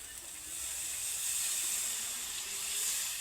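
Water hitting a pan of hot egg curry masala makes a loud, steady hiss that lasts throughout, swelling slightly partway through, with no one talking.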